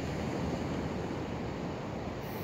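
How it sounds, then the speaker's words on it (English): Ocean waves wash steadily onto a beach on a calm morning, forming a continuous, even roar of surf mixed with light wind rush, with no voices. "I don't know if you can hear the waves behind me this morning"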